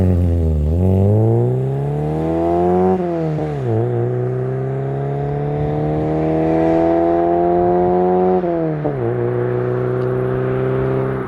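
Volkswagen Polo GT Coupe with its 1300 engine of 75 horsepower, heard from inside while driving, rising through the gears in long revving sweeps with brief dips at each shift, loud and close.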